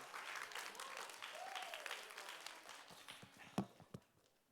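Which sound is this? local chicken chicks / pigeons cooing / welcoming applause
welcoming applause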